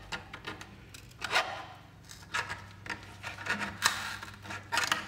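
A transmission filter screen from a 1998 Jeep Cherokee XJ is torn open, heard as close, intermittent rasping and scraping bursts of tearing material separated by short pauses.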